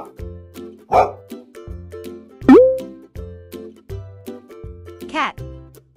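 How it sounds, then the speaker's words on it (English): A dog barks a couple of times over a bouncy, plucky musical backing with popping plops, and a voice briefly speaks. "Dog."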